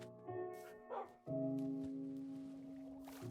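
A tamed dog in Minecraft gives a few short, close barks and yips, separated by brief gaps, with a sustained tonal game sound underneath.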